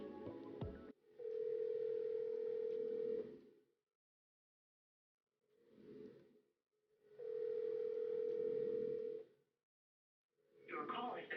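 A telephone call being placed, its steady electronic tone sounding in two long bursts separated by silence, with brief voices at the start and end.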